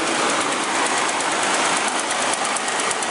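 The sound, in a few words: Ford 4.6 V8 engine running, timing chain guides ticking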